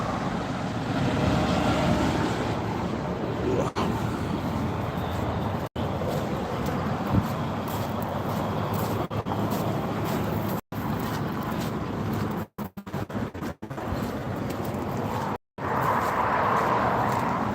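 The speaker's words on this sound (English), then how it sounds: "we better jump in the tractor and get going." A tractor engine drones steadily while driving along a road, a loud, broad rumble with heavy wind-like buffeting, broken by several brief cutouts near the end.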